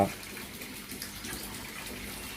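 Water pours steadily into a can, a continuous close splashing gush for a bucket of red mite culture being prepared, with no talk over it.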